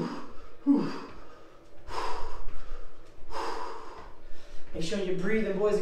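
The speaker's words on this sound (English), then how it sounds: "You can see me breathing heavily, trying to get deep breaths." A fitness instructor breathes hard during a workout, with repeated loud, rough gasping inhales and exhales close to the mic and a brief vocal sound near the end.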